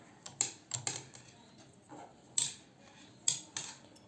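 Knitting needles click sharply as woolen stitches are knitted, a series of light, close taps coming in small irregular clusters with short pauses between them.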